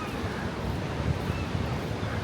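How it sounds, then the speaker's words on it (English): Broad, rushing noise of winter surf and wind with low rumbling, steady throughout, like waves washing on a breezy shore at Bridlington. "the more natural things you hear, like the seagulls and the waves"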